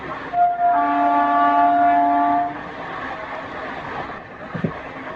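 A MEMU train running just after leaving Koppal sounds a long, loud horn blast, then its steady rumble and rattle carries on alone.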